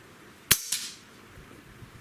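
A Hatsan Galatian air rifle fires one suppressed shot: a sharp, close crack followed by a brief hissy tail, quiet overall, with a faint click near the end.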